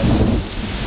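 Heavy thunderstorm in Haysi, Virginia, with loud, dense rain and a deep rumble of thunder filling the whole brief moment, no talking.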